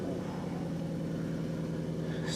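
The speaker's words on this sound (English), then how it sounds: "Stage 2 Roush supercharger" A 2015-2023 S550 Mustang fitted with a Stage 2 Roush supercharger runs at low speed, a steady low engine hum close by and fairly quiet, without talk.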